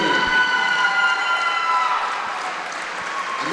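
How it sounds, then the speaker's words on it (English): A gym crowd claps for the senior members of a girls basketball team at a Winamac versus Twin Lakes game. The applause is steady and fairly loud, with sustained tonal squeal ringing over it, and it eases off gradually. "let's give one more round of applause for our senior members of our"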